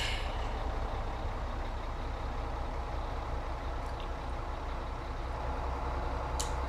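Small American truck driving in Farming Simulator 2017, its engine giving a steady, even drone at moderate level, with a faint brief hiss near the end.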